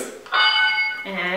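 A game show buzzer, used to decide who buzzed in first in a Disney song challenge, rings out as a bright tonal bell-like tone, then switches to a lower second tone, loud and close.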